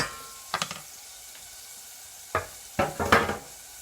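Onion rings fry in hot oil on a stovetop burner and get stirred, sharp scraping and sizzling bursts coming in irregular clusters, close and fairly loud with quiet gaps between.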